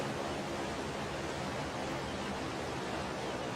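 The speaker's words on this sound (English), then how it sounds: "This waterfall sounds like an airplane." Waterfall in the video game ARK: Aberration, a constant, even rushing roar like jet-engine hiss, faint and steady throughout with no other sounds.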